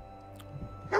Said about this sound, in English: Woof woof.